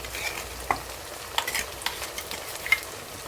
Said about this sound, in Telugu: దాన్ని వేసేసుకుందాం. వేసి దీన్ని కాసేపు నూనెలో బాగా వేయించుకుందామండి